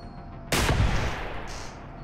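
A single sharp gunshot from a firearm in the PC game Receiver 2, a loud broadband blast that decays over about a second, followed by a faint high-pitched mechanical tone.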